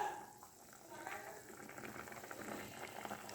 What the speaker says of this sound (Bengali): এই কর্নফ্লাওয়ারের জলটা দিচ্ছি, গুলে রেখেছি, হ্যাঁ দিয়ে দিলাম।